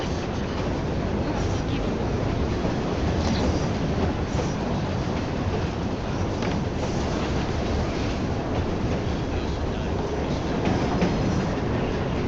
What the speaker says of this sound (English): We'll be on our way soon as the train slows